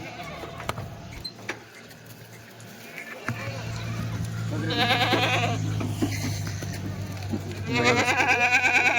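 Goats at a livestock market bleat in several loud, wavering calls that come in bursts near the middle and end, over a steady low hum, while people talk nearby.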